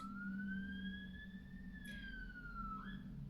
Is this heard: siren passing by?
yes